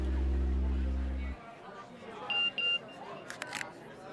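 A phone message notification tone in a crime drama scene: two short bright beeps midway, followed by quick clicky chirps, over room noise and a low hum that cuts off early.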